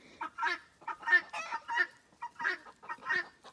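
Hens and ducks let out of their pen, a busy run of clucks and honking quacks in quick irregular bursts, close and fairly soft.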